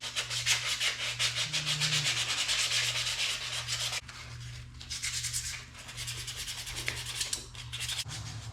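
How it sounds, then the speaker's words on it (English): A wooden shaft handle for a truck is hand sanded with 220 grit sandpaper, giving close, rhythmic back-and-forth rasping strokes with brief pauses, no talking. "now it's time to start hand sanding it"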